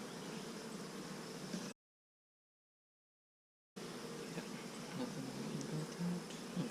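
Italian honey bees buzz around an open hive during an inspection, a steady dense drone broken by a couple of seconds of complete silence before the buzzing resumes.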